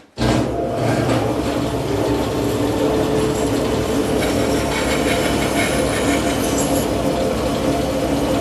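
Belt sander grinding a pewter casting in a workshop, a loud, steady abrasive whir with scraping friction that starts abruptly and runs continuously without a break.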